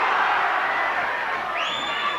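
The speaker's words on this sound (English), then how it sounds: "The crowd roar every success" Boxing arena crowd at a super bantamweight championship bout, roaring in a dense, steady wall of sound that swells near the end with a rising cheer.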